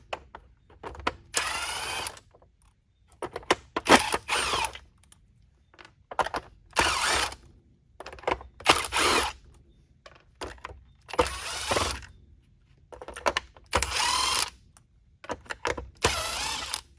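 Short bursts of a power screwdriver or drill back out screws from the base of a Shark Navigator Lift-Away vacuum, about a dozen whirring spurts separated by quiet pauses, close up and fairly soft.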